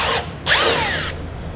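A power drill bores through the bottom of a vehicle panel while a Roadmaster 7-wire to 6-wire Flexo-Coil wiring kit is installed. A close, loud whine cuts out briefly, then returns as a rising burst with no talk over it.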